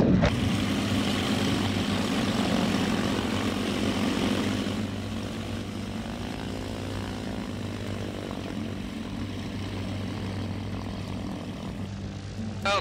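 A propeller airplane engine fires up on the ground for a test flight, a loud steady droning roar with a strong low hum that holds and shifts slightly in pitch as it keeps running.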